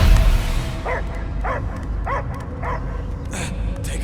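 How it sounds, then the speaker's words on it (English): A dog barks in the video game Guardians of the Galaxy, six or seven evenly spaced yips and barks sounding close and clear over a low, rumbling game ambience. "I hear only barking."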